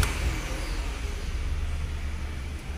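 A Renault car engine, a Sandero, Clio, Logan, Duster or Kwid type with a suspected catalytic converter fault, runs with a steady, close mid-pitched rumble throughout, holding an even level with no clear cranking or start burst.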